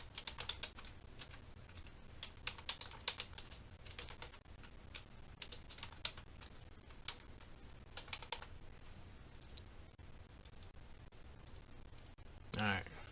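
Someone types on a computer keyboard: a quiet, steady patter of close key clicks in bursts, with a brief louder rustle near the end.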